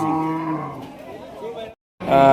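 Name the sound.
cows at a cattle market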